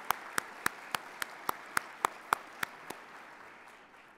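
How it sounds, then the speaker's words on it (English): About a dozen evenly spaced sharp claps ringing out in a reverberant room, fading into a lingering decay; sparse rather than a full crowd. "round of applause for everybody this morning"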